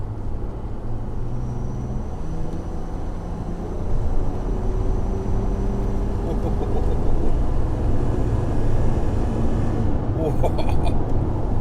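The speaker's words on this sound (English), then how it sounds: "I'll let you listen to the straight six because it's a lovely noise that it makes" A Mercedes SL 320 straight-six engine accelerates from inside the car, a steady mid-pitched drone that builds and rises, with people talking over it.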